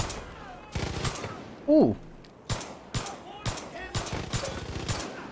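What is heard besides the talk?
Widow Maker gun firing in video game Far Cry 5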